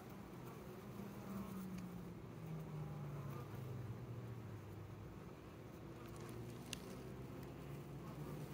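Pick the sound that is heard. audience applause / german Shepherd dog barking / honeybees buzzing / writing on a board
honeybees buzzing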